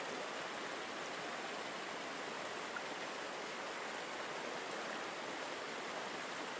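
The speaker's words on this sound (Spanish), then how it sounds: "La bruma de la cascada sigue refrescando el aire" Rushing water of a waterfall, a steady, even broadband hiss with no breaks, fairly soft and continuous throughout.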